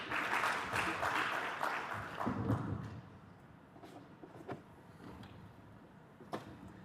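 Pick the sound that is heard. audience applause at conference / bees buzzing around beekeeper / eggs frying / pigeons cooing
audience applause at conference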